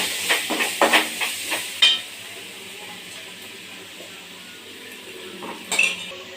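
A spoon scrapes and clinks against a pot while prawn gravy with turmeric powder is stirred, a cluster of sharp metallic taps up front, then a low simmer and a few more clinks near the end.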